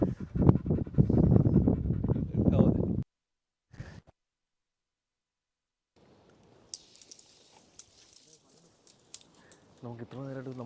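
A hunting dog pants heavily and rapidly up close during a pheasant hunt outdoors, with a few seconds of loud breathing followed by quieter stretches of faint rustling and jingling. People speak nearby.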